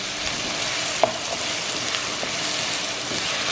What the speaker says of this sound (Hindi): अभी इसको मैं गार्लिक में भी फ्राई कर रही हूँ, ये अच्छी तरह से और भी थोड़ा ब्राउन हो जाए।